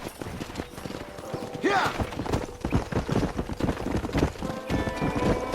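A horse gallops in Red Dead Redemption, with rapid rhythmic hoofbeats pounding close and loud, a brief whinny early on and a rider's shout over the hooves.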